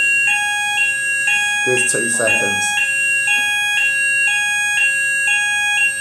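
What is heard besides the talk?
fire alarm ringing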